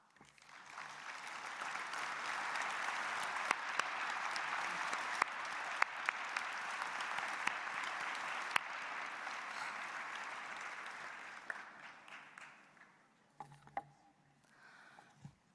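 Commencement crowd of graduates gives sustained, even applause for faculty, staff and alumni, building quickly and holding for about twelve seconds before fading to a few scattered claps.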